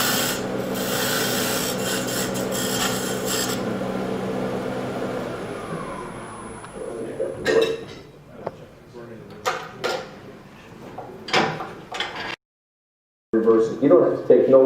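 Woodturning tool cutting a dovetail tenon on a spinning wooden bowl on a lathe: a sustained raspy scraping at first, then fading into scattered knocks and rubbing amid talking, with a brief silent gap near the end.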